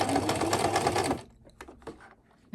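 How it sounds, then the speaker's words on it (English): A sewing machine stitching a handmade soft toy duck, a steady fast loud whir of needle strokes for about a second before stopping, followed by quiet handling noises. "the next job is to sew"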